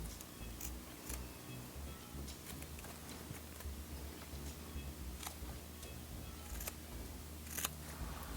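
Scissors cut material for a no-sew embroidery pin, giving sparse, quiet snips at irregular intervals over a low steady hum, with no voices.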